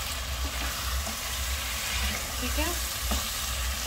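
A spoon stirs a turmeric spice mixture in a frying pan, with scraping and soft sizzling over a steady hum as someone briefly speaks.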